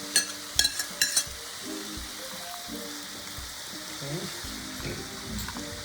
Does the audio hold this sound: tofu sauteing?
yes